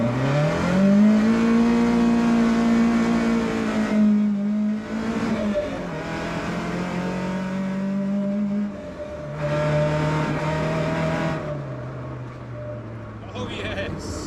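A project car on its shakedown drive after a cylinder head rebuild, running on a stock steering rack. Its engine drones loud and close, the pitch climbing and dropping through several gear changes for about fourteen seconds.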